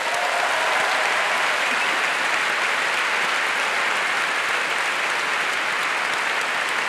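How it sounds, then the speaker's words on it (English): A large audience at a Festival of Dangerous Ideas debate bursts into sustained applause, a dense, even roar of clapping that stays loud and steady from start to finish. "Please give yourselves a round of applause."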